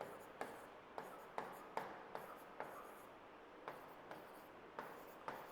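Marker or chalk writing numbers on a board, a series of short scratchy strokes and taps in an irregular rhythm, faint and close in a quiet room.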